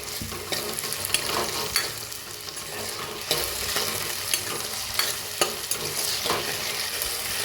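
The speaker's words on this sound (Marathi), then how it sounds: "आता टमाटर टाकूया आपण त्याला बी मिक्स करून छान असं टमाटो भाजून घेऊया" Tomatoes frying in a pan for tomato sambar, a steady close sizzle broken by regular clacks of a spoon stirring against the pan.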